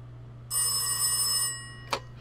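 An old telephone rings in the police-management video game This Is the Police, a bright electric bell burst lasting about a second, followed by a short click, with a steady low hum underneath.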